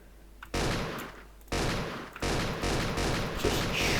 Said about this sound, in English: AA-12, automatic shotgun.